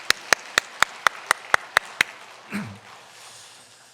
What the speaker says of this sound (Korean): 우리 집사님 위로의 박수로 힘내시라고 다시 한번 박수하겠습니다